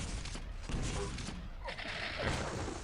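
Plasma gun fire in a Quake CPM duel match, a dense, steady run of rapid electronic shots mixed with other game effects, loud and continuous throughout.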